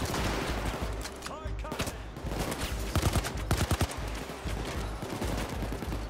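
Gunfire from a gun in the heist shooter Payday 2, loud rapid bursts and single shots cracking in uneven clusters throughout, with a faint voice now and then.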